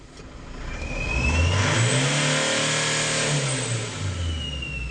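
An Isuzu Traviz truck engine with a low-power fault revs up to 4,500 RPM, a steady rising mid-pitched roar that holds high and then eases slightly, close and loud with no talking.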